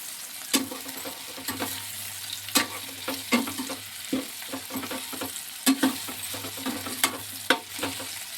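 Bitter gourd gojju cooking in a pan is stirred with a utensil, producing irregular close scrapes and knocks against the pan over a soft, continuous sizzle, with no one talking.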